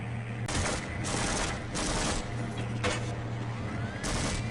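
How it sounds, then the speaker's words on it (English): Half-Life gunfire against headcrabs and enemies from a spawner: several loud, sharp bursts of shots separated by short pauses, close and clear, with steady in-game background noise between them. "he's too busy shooting the stupid head crabs"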